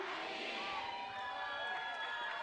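Crowd at a European breaking championship final between national crews of Spain and Russia, a sustained roar of cheering and shouting from a large audience that fills the space continuously.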